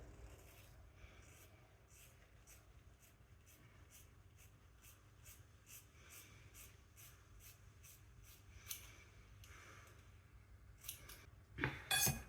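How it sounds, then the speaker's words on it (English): Scissors snip through hair in a quick, regular series of crisp close cuts, faint overall, with a louder rustle near the end. "He cuts it here and I'm going to cut it down there."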